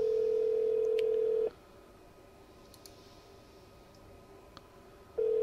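In the video game Duskwood, a steady phone ringback tone sounds through an unanswered call, with one long ring, a long quiet gap and then another ring starting, all alone.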